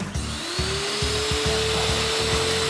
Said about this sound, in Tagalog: So, kung nakita nyo, malakas yung kanyang blower function.